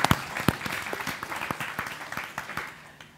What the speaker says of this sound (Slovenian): da si zasluži aplavz